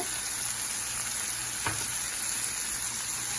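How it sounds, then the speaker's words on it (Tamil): Onion and tomato frying in a pan with ginger garlic paste being stirred in for a Tamil egg white curry, a steady close sizzle with one brief scrape of the spoon partway through. "சேர்த்துட்டு நல்லா கலந்து விட்டுருங்க"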